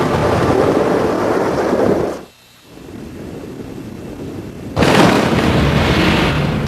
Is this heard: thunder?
yes